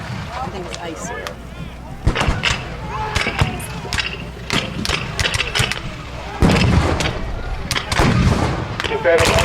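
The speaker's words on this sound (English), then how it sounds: "Confederate artillery battery is still opening up from beyond the Gettysburg Road." Confederate artillery battery firing at a 160th-anniversary Battle of Gettysburg reenactment, with repeated loud booming reports and sharp gunfire cracks spread across the scene, under crowd noise and outdoor chatter.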